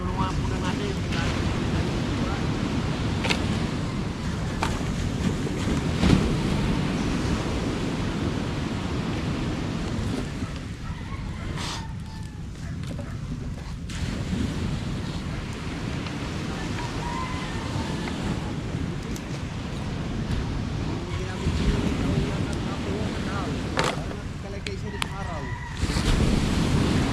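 Sea waves on a beach wash in a steady, broad roar with wind buffeting the microphone, continuous and fairly loud throughout, with brief voices now and then.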